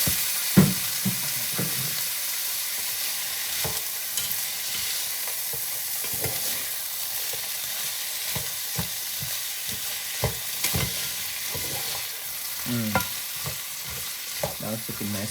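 Meat and vegetables stir-fry in a hot pan, a constant loud sizzle broken by repeated scraping and clattering stirs, close and with no voices.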